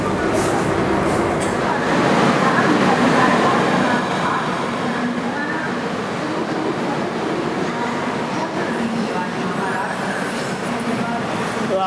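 Express train hauled by WP7 locomotive 30240 from Lallaguda shed, heard from inside a coach: steady broadband rolling rumble and rattle of the carriage on the track, continuous throughout.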